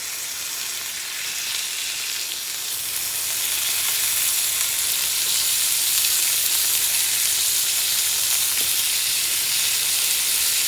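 Burger patties sizzling in a pan greased with bacon grease, keto burgers batch-cooked for the freezer; a steady, close, bright frying hiss that swells slightly after the first few seconds and holds without any talking.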